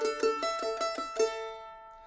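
A mandolin plays a quick lick of seven or so picked open-string notes, right hand only, each attack bright and ringing, then the strings sustain and fade; close and clean, with no voice.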